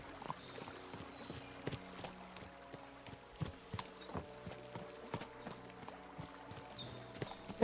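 A horse's hooves clip-clop at a walking pace on a path in the medieval video game Kingdom Come Deliverance, clear irregular hoof knocks over faint ambience, no talk.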